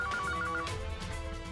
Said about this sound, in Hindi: कब से रिंग हो रही है